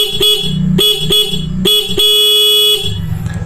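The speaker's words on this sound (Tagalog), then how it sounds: "itong stock horn po ang tutunog" A car's stock horn honks in several short blasts, then one long sustained blast, loud and close, with a brief pause between bursts.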